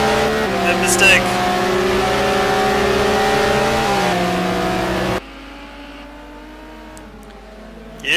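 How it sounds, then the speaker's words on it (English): Race car engines in a sim racing video game drone loudly and steadily, with pitch shifts as cars brake and accelerate, under continuous excited commentary; the sound drops abruptly to a faint hum partway through. "As Buchner goes off track there, can McCall take advantage of that mistake?"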